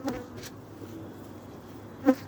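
Honeybees fly at the landing board of a weak hive just after a cold spell, a faint, steady buzzing hum up close with brief louder passes near the start and end.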